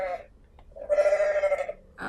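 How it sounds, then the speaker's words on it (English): A goat in the Goat Simulator video game bleats twice: a short cry, then a longer, quavering bleat in the middle, with the start of another call cut off at the end, over a faint background hum. "there's a goat here"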